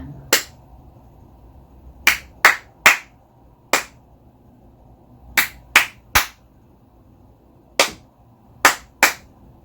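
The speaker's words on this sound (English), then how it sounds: "I'm gonna do the clapping as I taught you" Hand claps tapping out a music-reading rhythm exercise, sharp isolated claps in uneven groupings with gaps between, close and clear with no talking.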